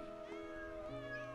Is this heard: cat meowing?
yes